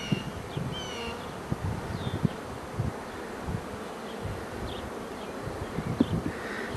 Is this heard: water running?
no